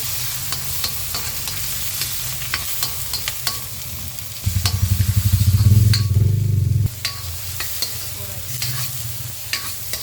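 Tomatoes frying in a pan, a steady sizzle with scattered pops, swelling into a louder, rapidly scraping stir for a couple of seconds before settling back to the sizzle.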